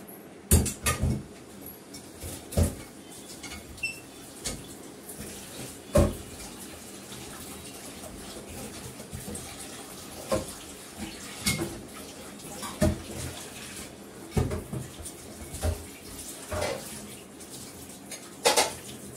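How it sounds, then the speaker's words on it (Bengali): A blackened steel kadai is scrubbed under running water, the steady rush of the tap broken by repeated metallic clanks and scrapes of the pan close by, with no talk. "এর মধ্যে মাছটা ভেজে কড়াটা ধুয়ে রাখবো ভালো করে"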